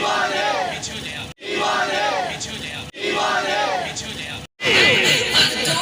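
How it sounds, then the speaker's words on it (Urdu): Traders at a street protest rally chant slogans in unison, a loud crowd of voices repeating a phrase in rhythmic bursts separated by short breaks. "ریلی میں تاجروں نے انڈیا کے خلاف سخت نفرت کا اظہار کیا اور مودی حکومت کے خلاف نعرے لگاتے رہے۔"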